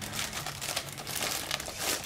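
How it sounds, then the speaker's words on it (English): Plastic wrapping crinkling close up as it is pulled off a Western Digital My Book external drive during unboxing, a dense, continuous rustle of crackles with no speech. "pull the plastic wrapping off"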